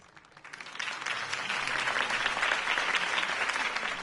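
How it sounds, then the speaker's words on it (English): Applause from a large crowd rises quickly and holds steady, a dense wash of clapping with no voices above it. "could have heard that applause"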